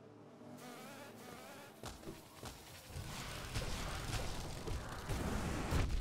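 Giant bee enemy in the game Hollow Knight buzzing, a close, insect-like drone with rising intensity and sharp bursts of combat hits and movement sounds mixed in.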